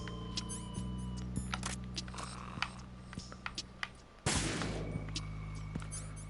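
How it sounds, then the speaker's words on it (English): Gunshots ring out in Metal Gear Solid 2, a string of sharp, separate cracks over a steady game hum, followed by a louder burst of noise near the end. "Wait, we'll just shoot him."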